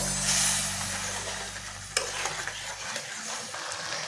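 Masala gravy for dahi butter chicken fries in a pan while it is stirred, with a low hum fading after a few seconds and then a sharp clack and scraping stirs over a soft sizzle.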